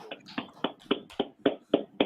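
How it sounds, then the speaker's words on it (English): A small group claps hands in a steady, rhythmic beat, about eight sharp, evenly spaced claps close by, with no talk over them. "Clap it up."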